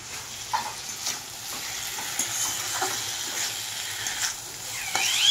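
Fried taro pieces added to a pan of hot oil, giving a steady close sizzle with light crackles and occasional soft utensil knocks throughout.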